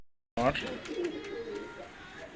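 Pakistani high-flying teddy pigeons cooing close by, a soft low throaty coo starting abruptly and trailing off, faint and brief with a hint of background voices.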